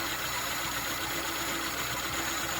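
A Toyota 1.3-litre engine fitted with a Solex carburetor idles on choke, giving a steady, unbroken mechanical hum with no change in revs and no talking.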